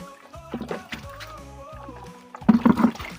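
Water poured and splashed for rinsing while bathing outdoors under a fresh water drip, with faint music and soft sloshing early, then a louder burst of splashing near the end.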